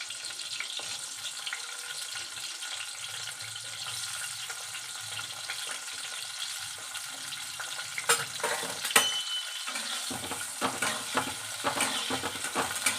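Eggplant fries in a pan with a soft continuous sizzle and hiss, joined by stirring and scraping sounds that grow busier toward the end.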